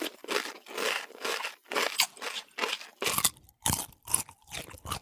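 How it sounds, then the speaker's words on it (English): Rhythmic crunching bites of black-and-white striped caterpillars eating leaves, rendered as a close, dry sound effect of about a dozen evenly spaced munches, quickening toward the end. "These little guys are black and white striped munching machines, and all they really do is just, well, munch on leaves."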